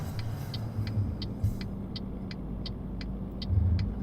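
A truck in Euro Truck Simulator 2 makes a U-turn in the middle of the road: a steady low engine rumble runs beneath a regular ticking of the turn indicator.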